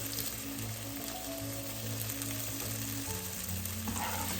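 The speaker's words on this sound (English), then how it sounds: "So for about 5 minutes in, browning our tofu here." Tofu browns in a pan for a Filipino sautéed bitter melon dish, giving a constant dense sizzle that holds evenly close-up throughout, with a slight shift in tone near the end.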